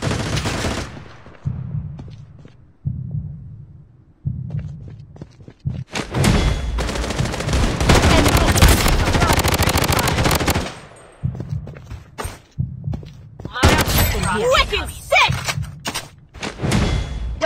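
Gunfire in Bloodstrike, mobile shooter played on an iPad Mini 5: scattered single shots and short bursts building into long loud automatic volleys, separated by quieter gaps, with occasional voice callouts.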